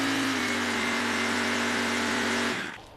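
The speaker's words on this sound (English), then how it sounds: "Now when you're running your engine," A 2020 Toro TimeCutter MyRide zero-turn mower engine runs loud and close at a steady idle, droning alone without talk and fading out at the very end.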